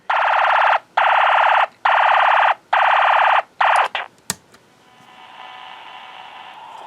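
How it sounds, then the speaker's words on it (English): Snap Circuits alarm IC signal received on an AM radio: loud, steady electronic alarm tone in five bursts separated by short gaps, then a click and a faint hum. "our alarm IC gets power and it starts sending the signal which we pick up on our AM radio"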